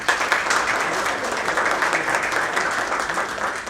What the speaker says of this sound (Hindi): गाइस आप सभी की तरफ से थोड़ी सी तालियां होनी चाहिए।